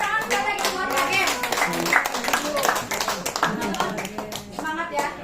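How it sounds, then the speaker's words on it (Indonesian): Audience clapping for a presenter at an indoor business talk in Indonesia, with sharp individual claps under overlapping voices and cheering, lively and close. "Tepuk tangan sekali lagi buat Kak."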